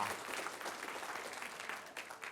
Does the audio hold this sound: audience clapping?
yes